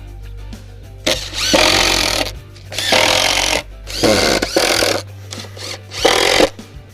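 A power drill driving 3/4 inch wood screws into 3/4 inch plywood: four loud whirring bursts of a second or so each, separated by pauses with a low electrical hum, close up.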